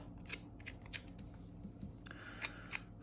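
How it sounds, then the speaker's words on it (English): Scissors cut paper scraps for a planner page in a few quiet, close snips, spaced about every half second against a soft background. "No, I want to cut a little bit more here."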